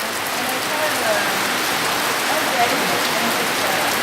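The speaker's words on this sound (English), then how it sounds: "Getting a little rain here right now." Steady rain falling on a surface, heard from indoors, an even close hiss of drops with no pauses, and faint talk underneath.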